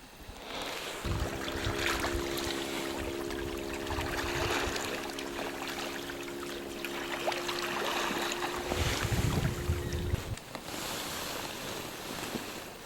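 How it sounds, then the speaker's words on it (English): A fast incoming tidal current rushes past a moored kayak in Upernavik icefjord, Greenland, a steady broad hiss of water and wind with a faint sustained whistling tone through most of it. "There's a fast current whistling in right at the moment."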